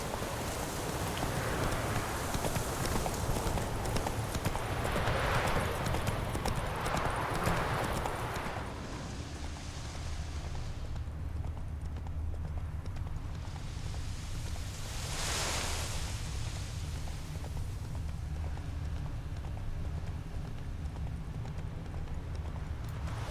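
Horse hooves clip-clopping as the horse is ridden in The Witcher 3, a steady trotting rhythm through a wash of rain-like ambient hiss that surges in patches.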